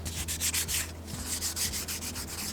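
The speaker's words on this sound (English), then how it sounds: "use a more softer and smoother nail buffer to smoothen the whole nail out" Soft nail buffer rubbing over press-on nails in quick, close strokes, a steady rhythmic scratchy rasp with no talking.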